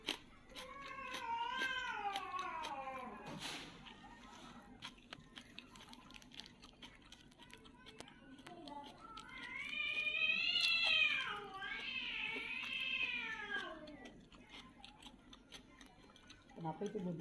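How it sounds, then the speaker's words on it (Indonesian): Cats meow while playing indoors, with a couple of drawn-out meows early on and a longer, louder run of wavering cries in the middle, close to the microphone. "Ada kucing lagi bercanda"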